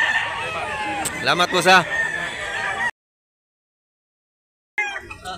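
A white Bullstag fighting cock crows and clucks close by in a loud burst, then falls silent before brief rustling resumes; a voice talks over part of it.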